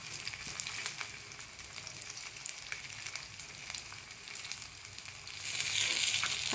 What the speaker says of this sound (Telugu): ఇలా 2 వైపులా ఆయిల్ వేసుకుంటూ ఒకవైపు కాలాక తిప్పేసుకుంటూ 2 వైపులా సిమ్లో పెట్టుకొని మంచిగా కాల్చుకోవాలి